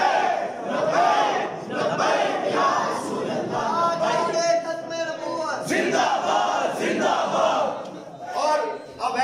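A large crowd at a condolence gathering chants a religious slogan in loud, rhythmic unison, with repeated call-and-response bursts that rise and fall over several seconds.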